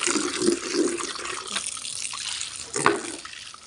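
Water is poured out of a bucket, making a continuous close-up rush and splash with a few louder gushes along the way and no talking.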